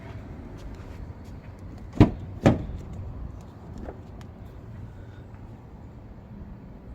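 Two sharp clunks close together, the back door of a 2016 Ford Explorer Police Interceptor being unlatched and swung open, over a low steady outdoor hum.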